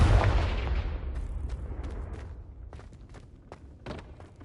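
A Confringo spell in Hogwarts Legacy goes off with one loud, close explosive boom that slowly fades into a rumbling tail, followed by a few scattered faint thuds.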